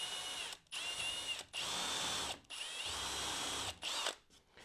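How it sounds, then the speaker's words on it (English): Power drill driving a screw into a laminated wooden back piece of a table saw sled, with four bursts of high whirring separated by short pauses and no talk. "I want to drive a screw up into my laminated back piece here"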